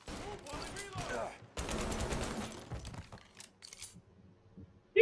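Gunfire in the Mafia Definitive Edition video game: dense bursts of rapid shots and a fusillade for about three seconds, then sparse quieter pops, with a voice heard among the shooting.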